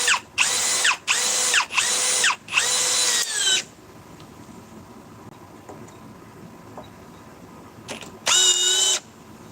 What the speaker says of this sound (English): let's go with the Ryobi, 2nd gen, 850 inch-pounds